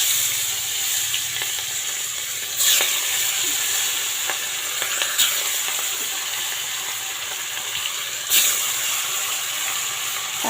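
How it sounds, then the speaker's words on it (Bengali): Catla fish pieces frying in hot oil, a continuous loud sizzle and hiss with a few sharp spits and clatters as pieces go in, close and without talk. "এখন এক এক করে মাছগুলো ছেড়ে দিই"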